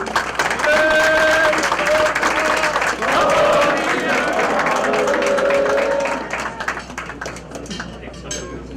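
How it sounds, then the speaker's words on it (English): Sustained applause from a crowd, loud and continuous, with some voices and tones rising over the clapping before it thins out near the end. "A round of applause."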